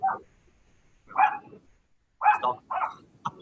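Dog barking nearby in an indoor talk setting, four or five short, sharp barks in uneven bursts with brief quiet gaps between them.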